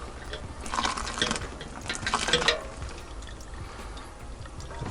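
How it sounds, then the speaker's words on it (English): Boiling water poured from a jug through a funnel into an Aeropress coffee maker, a faint, soft splashing trickle with a couple of louder gushes. "Add your boiling water."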